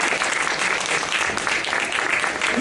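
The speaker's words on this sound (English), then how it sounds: "clap for that." A school audience claps loudly and continuously for students, a dense burst of applause lasting a few seconds.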